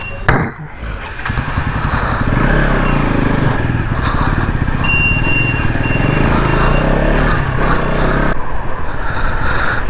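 A Bajaj NS200 motorcycle rides onto the Chennai–Kolkata highway near Vijayawada, its engine droning loudly and steadily close by with wind buffeting throughout; a voice speaks over the engine noise.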